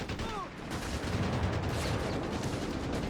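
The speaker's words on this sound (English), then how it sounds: "Mortar fire raining down death as well here." Mortar fire in the Company of Heroes 3 strategy game, a rapid barrage of booming explosions and gunfire rumbling continuously through the whole stretch, with faint talk underneath.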